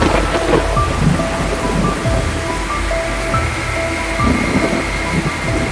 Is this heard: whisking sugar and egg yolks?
no